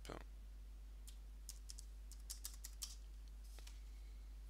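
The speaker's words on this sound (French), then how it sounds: "on tape le mot de passe" Password typed on a computer keyboard during Linux Mint 19 Tara setup: a few sparse, light key clicks in short bursts, faint and alone in a quiet room with a low steady hum.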